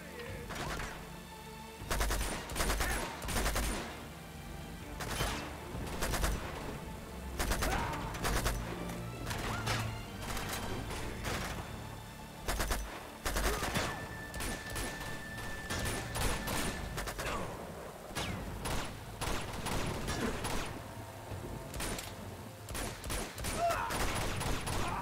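Dense gunfire rattles through a firefight in the video game Uncharted 2: Among Thieves, with sustained volleys, crashes and impacts layered almost continuously over game music and effects.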